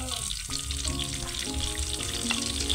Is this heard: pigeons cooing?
no